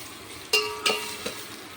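Masala with coriander powder, chilli, salt and turmeric is stirred into onions frying in a pan, giving a steady sizzle broken by three quick scraping strokes of a spoon, close up and with no talk.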